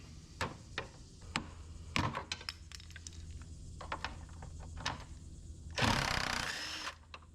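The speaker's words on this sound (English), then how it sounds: "there's a 10mm bolt right behind it that you have to get" Wrench work on a 10mm bolt behind a small plate on a Ford F250/F350 truck grille, heard as scattered sharp metallic ticks and clicks with a louder rasping burst near the end.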